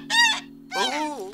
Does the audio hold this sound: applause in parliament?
no